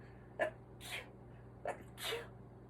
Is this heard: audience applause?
no